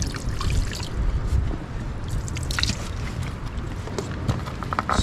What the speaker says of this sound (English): Got my bucket. Pour some water on these guys.